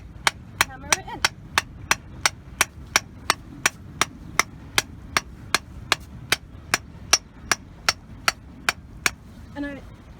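Hammer driving a post into sand on the foreshore, around two dozen sharp, evenly spaced blows in a steady rhythm, close and fairly loud over faint background noise.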